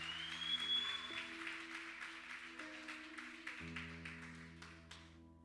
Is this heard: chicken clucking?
no